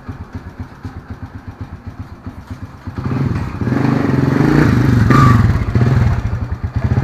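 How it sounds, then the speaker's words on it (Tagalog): A Bulacan tricycle, a motorcycle with sidecar, putters in a rhythmic low idle, then revs up and pulls away into a loud, steady engine drone with rattling clatter, heard close from onboard. "first time ko makasakay ng tricycle ng ganito"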